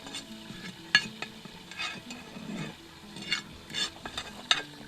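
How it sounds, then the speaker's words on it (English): A roast sizzling in a camp oven, with a soft steady crackle and hiss broken by a few sharp metallic clinks and scrapes, close and fairly quiet. "I can hear it sizzling away."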